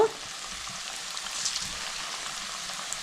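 Chicken pieces fry in hot oil for restaurant-style chilli chicken, a soft continuous sizzling hiss at steady moderate level with a faint bump at the very start, no talk.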